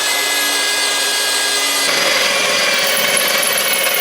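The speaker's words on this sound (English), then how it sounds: "when drilling through thick metal like this" A power drill grinds steadily with a high whine through the thick metal of a barbecue smoker, then the pitch shifts as the bit bites harder, continuous and close.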